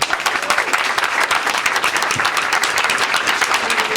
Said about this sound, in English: Please give a nice round of applause to Kathy Mitchell